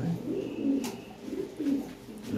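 Lahore pigeons, a yellow pair kept in a loft, give soft repeated cooing calls in a rolling rhythm of about four or five coos, close by and fairly quiet, with no talk.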